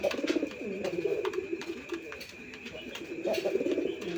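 Rajshahi Giribaz and Budapest pigeons coo in soft, repeated rolling phrases close by, with faint background noise and no talking.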